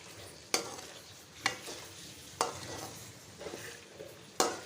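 A spoon scrapes and stirs cream through chicken white karahi in a pan, with four sharp metallic clinks spaced about a second apart over a soft low simmer, fairly quiet and with no talking.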